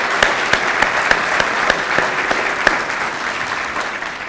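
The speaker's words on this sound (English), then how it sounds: "want to give them one more round of applause for coming to support you all tonight" Banquet crowd of teachers clapping for visiting legislators, a steady round of applause from many hands with a few sharper claps standing out, filling the room without any talk over it.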